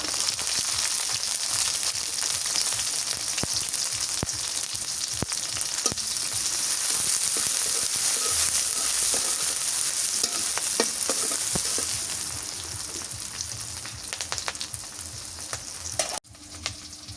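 Onions frying in a pan for a home-cooked vegetable dish, a steady loud sizzle with occasional stirring scrapes and clicks running throughout, easing slightly toward the end.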